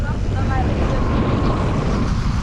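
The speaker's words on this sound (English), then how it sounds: "Well, it's quite windy now." Heavy, continuous wind buffeting a microphone on a rough mountain road in Nepal, a rumbling roar that fills the whole clip with no break.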